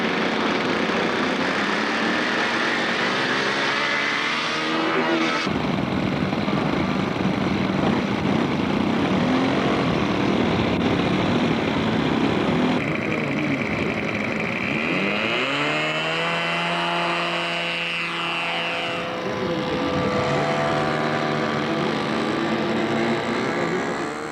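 A model airplane powered by a Supertiger 90 engine flies at an air show at Hamranes. Its engine gives a loud, buzzing, chainsaw-like drone whose pitch rises and falls as it passes and turns, continuous throughout.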